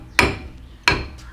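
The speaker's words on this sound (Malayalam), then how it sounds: "ഇവിടെ ഇങ്ങനെ തട്ടി ഇളക്ക്." Two sharp metallic knocks about 0.7 seconds apart, close and loud, as a Maruti Suzuki wheel bearing is tapped loose, each strike ringing briefly before fading.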